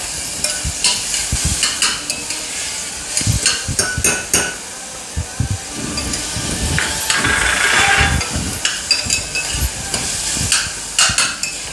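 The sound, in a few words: sautéing ginger garlic green chili paste in pan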